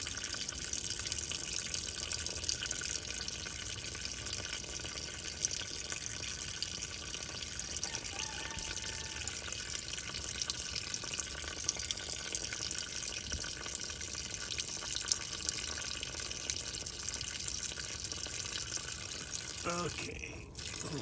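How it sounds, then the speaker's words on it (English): Water drains steadily from a 1951 Case VAC tractor, a continuous hissing, splashing flow that stays even throughout, with a short clunk near the end. "let me drain this water out before, and then I'll drain the oil"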